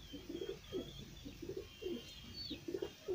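Soft, repeated pigeon coos in a steady rhythm, fairly near, with faint chirps from other birds in the background.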